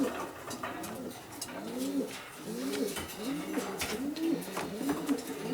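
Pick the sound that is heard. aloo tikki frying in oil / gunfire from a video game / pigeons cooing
pigeons cooing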